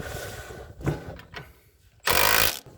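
An axle pin from a custom kit being tightened on a Case Ingersoll loader backhoe: several short, uneven bursts of tool noise, ending with one loud, sustained half-second burst up close.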